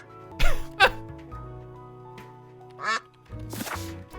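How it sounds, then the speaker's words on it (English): Cartoonish duck quacks from the video game Duck Detective and The Secret Salami come in several short, loud bursts spread across a few seconds, with a soft, steady musical background humming underneath. "Just quack."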